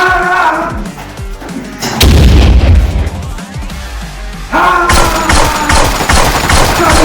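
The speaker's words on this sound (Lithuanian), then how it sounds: "granata!" A grenade detonates in a heavy burst of explosive noise amid ongoing gunfire, with a loud blast near the two-second mark and sustained crashing, rattling combat sound throughout.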